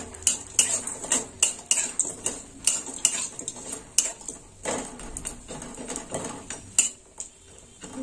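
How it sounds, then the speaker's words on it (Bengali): Lentil dumplings (bori) fry in oil in a pan while a metal spatula stirs them, producing a run of sharp, close clinks and scrapes against the pan over a faint sizzle, with no talk. "বড়িটা একটু লাল লাল করে ভেজে নিই"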